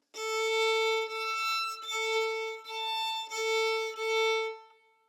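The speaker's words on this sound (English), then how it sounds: "I can tell their tone will be thin and scratchy because they're raising their shoulder." A thin, scratchy bowed violin note sustained steadily, with slight breaks between bow strokes, played alone and fading at the end.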